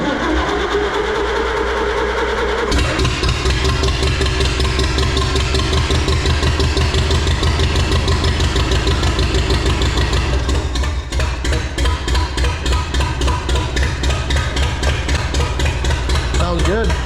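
A Farmall Super C tractor engine is started with a little choke, catching after a brief crank and settling into a loud, steady, rhythmic chugging idle with a close, thumping beat throughout.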